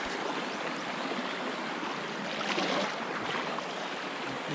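River water rushes and churns steadily while someone crosses a small river in the dry season, a broad, constant wash with no voices and no break.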